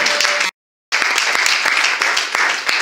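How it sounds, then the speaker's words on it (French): A church congregation claps and cheers for the Lord during worship, dense sustained applause broken by a brief gap of silence, then resuming loud and continuous. "Can you clap for the Lord?"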